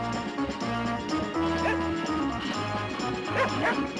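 A hound bays and yips up at a bear treed above it, its barks repeating in short bursts over a continuous bed of music.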